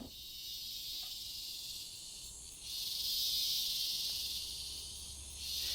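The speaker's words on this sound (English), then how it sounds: "We had the dueling crickets." Crickets chirp in a continuous high shrill trill at night, several overlapping in a faint, steady drone with slight swells, no voices.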